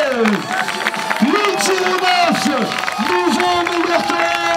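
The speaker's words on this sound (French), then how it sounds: "les applaudissements s'il vous plaît" Spectators at a StihlTimbersports championship in Bessans clap and cheer steadily while an announcer talks loudly over a public-address system.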